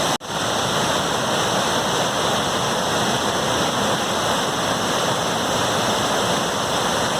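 Water rushes steadily through a steep limestone gorge at Ewbank Scar near Kirkby Stephen, a loud, continuous broadband roar like a waterfall, close and unbroken after a brief bump at the start.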